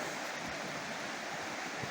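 A mountain brook draining the high Camel's Hump watershed through a narrow channel, swollen after Hurricane Irene, giving a steady, dense, close rushing roar of water with no talk.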